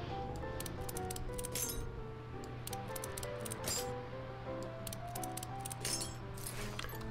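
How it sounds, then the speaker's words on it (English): Small metallic clinks and rattles of bolts being undone on a car muffler in Car Mechanic Simulator 2014, faint scattered ticks over a steady low background hum. "just click on it and undo the 4 bolts that hold it on"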